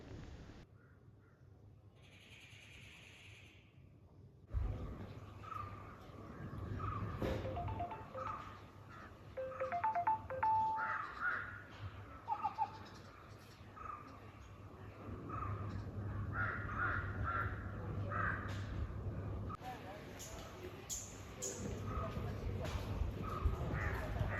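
Crows caw in the jungle around Thekkady, Kerala, with other birds calling faintly in a quiet, distant outdoor setting. The calls come scattered over soft background noise, and a voice is heard faintly at times.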